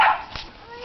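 A dog gives a short bark or yelp at the very start and then fades under outdoor background noise, with a person talking nearby.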